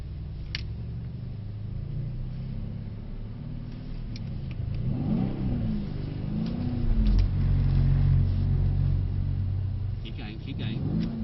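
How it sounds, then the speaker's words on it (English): A Mercedes C63s engine revs and surges steadily as its wheels spin on a wet skid circle, swelling louder in the middle with a low rumble, while voices talk over it. "Got to keep the wheel spinning."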